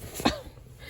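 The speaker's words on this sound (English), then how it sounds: "Oh, sneezing." A dog's single short sneeze, a quick sharp burst close to the microphone followed by quiet room sound.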